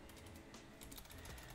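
Close keystrokes on a computer keyboard rattle quickly and continuously as an IP address is typed into a TrueNAS setup inside Proxmox, with no talk.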